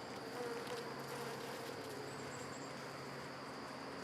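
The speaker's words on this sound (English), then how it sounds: "you see the little bees are in there enjoying their honey" Honey bees buzz inside an open hive frame of honey, a steady faint drone that holds for the whole stretch with no talk over it.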